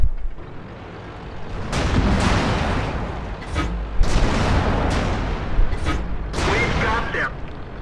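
Tank cannon shots in World of Tanks from a French AMX 13 75 light tank, with several heavy booms spaced a second or two apart over a continuous engine rumble, with talk over the top.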